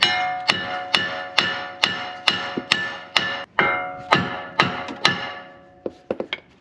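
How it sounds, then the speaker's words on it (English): Heavy metallic hammer blows strike a brake rotor on a Lexus GX460 repeatedly in a steady rhythm, each ringing briefly, ending with a few quicker hits. "Now we can get the rotor off. Well, I'm going to try just the hammer method first"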